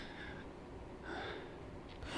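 A player character in the horror video game Outlast breathes heavily, faint, rapid breaths and gasps heard alone and close.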